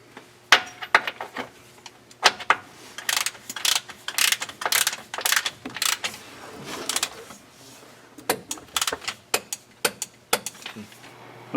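A ratchet with a 3/4 inch socket loosens the gold drain plug on the transfer case of a 2018 Chevrolet Silverado, giving close, repeated bursts of metallic clicking with short pauses between them.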